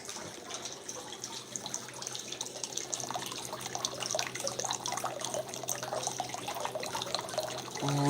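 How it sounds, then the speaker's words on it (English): Water trickles and drips steadily into a small indoor pond inside a traditional Japanese ryokan, a gentle continuous flow with scattered drops, fairly close and calm throughout. "There's like a little pond in here, and it gives you that sound of dripping water."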